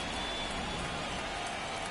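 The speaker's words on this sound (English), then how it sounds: "This rain is not letting up." Steady rain pours down over New Yankee Stadium in the Bronx during a Blue Jays–Yankees game, a dense, even hiss with no breaks that holds at one level throughout.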